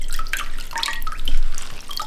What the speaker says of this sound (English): Drain the wood ear mushrooms and remove the tough stems. Drain the glass noodles